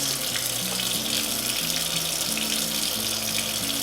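Running water from a tap rinsing a puppy during a bath at home, a steady close splashing stream throughout with no talking.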